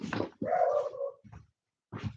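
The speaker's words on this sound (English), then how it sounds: "Let me see if this dog barking at something." A dog barks indoors, a few separate loud yelps and woofs with short gaps between them, heard alone without talking.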